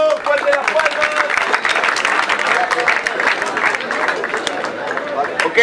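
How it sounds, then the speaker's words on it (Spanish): Crowd applause at a freestyle rap battle, loud sustained clapping layered with cheering and crowd chatter, filling the whole stretch without a break. "¡Fuerte las palmas!"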